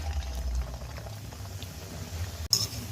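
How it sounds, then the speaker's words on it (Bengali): Sesame seed balls (til naru) frying in hot oil, with a steady close bubbling and crackle that stays even throughout, then briefly drops out before a sharper burst of sizzle near the end. "এখন আমি তেলে ভেজে নেব। তেল গরম হয়ে গিয়েছে, আমি এখন নাড়ুগুলো ছাড়বো।"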